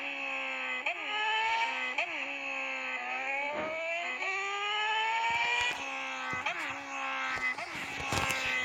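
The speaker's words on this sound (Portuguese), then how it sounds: "a moto sai disparada" A Yamaha XJ6 motorcycle engine revs and pulls away, its pitch rising and falling through several gear changes, loud and close with some clatter near the end.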